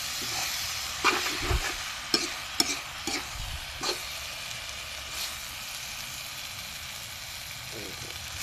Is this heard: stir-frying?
yes